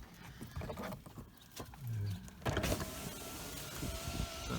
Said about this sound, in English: That window goes up and down